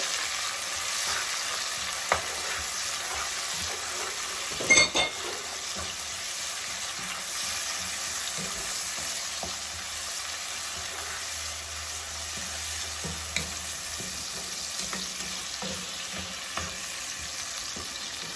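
Chopped leek, parsley and chives fry in a hot pan while being stirred, a continuous bright sizzle with occasional spoon knocks and scrapes against the pan, steady and close, with no talking.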